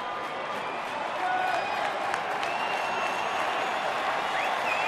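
A Detroit Tigers home baseball crowd applauds and cheers in a broad, continuous roar that swells slightly after the first second and holds steady, distant and stadium-wide.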